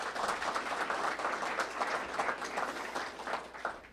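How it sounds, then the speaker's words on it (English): An audience at a gift announcement event applauds a student, giving brisk, dense clapping that stays fairly even for a few seconds. "So Bree, how about another round of applause for Bree?"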